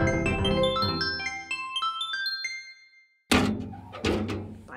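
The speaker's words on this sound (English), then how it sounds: "that is the actual sound of a mailbox outside of my house." After a short melodic musical jingle and a moment of silence, a mailbox lid outside a house shuts with a loud, close metallic thunk followed by a second clunk.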